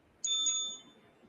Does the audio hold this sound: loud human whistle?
no